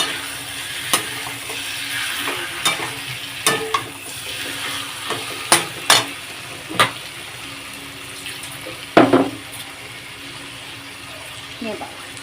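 Chicken frying with spices in a pan as water is poured in, giving a steady hissing sizzle broken by a series of sharp spatula knocks and splashy bursts, with a faint voice in the background.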